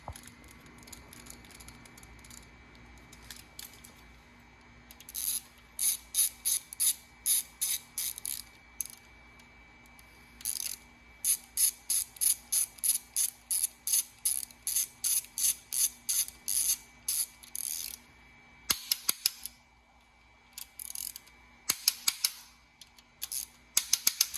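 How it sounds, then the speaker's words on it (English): Torque wrench ratcheting on timing chain bolts of an Audi S4, a series of quick, close, crisp clicking bursts in repeated bunches with brief pauses between, no talking. "Now let me set my torque wrench. These bolts are 10 Newton meters."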